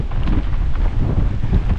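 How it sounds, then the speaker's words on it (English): Strong storm wind roars across an exposed mountain summit on Snowdon during Storm Agnes, a steady, loud, buffeting rush that batters the microphone without pause, with brief whoops from a person. "The wind's just whipping along, look."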